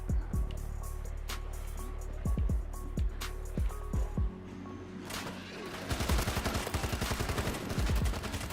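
Gunfire in World War Z Aftermath, starting with irregular loud single shots and moving into a rapid automatic burst near the end, over a steady low game hum.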